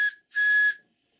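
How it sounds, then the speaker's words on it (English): The steam whistle on a Stuart 504 model boiler plant gives two short bursts at low pressure, a brief toot then a longer one, shrill and breathy and heard alone. "yet I still get a bit of a blow from the whistle"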